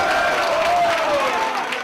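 Wrestling arena crowd at an ROH event cheering and roaring steadily, a dense sustained wash of voices with a faint whistle-like tone rising through it, loud and continuous throughout.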